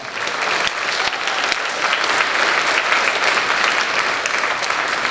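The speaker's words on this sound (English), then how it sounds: "How about a rousing round of applause for that?" Rousing applause from a school spring concert audience after a jazz band performance, a dense, loud, continuous roar of many hands clapping that holds steady throughout.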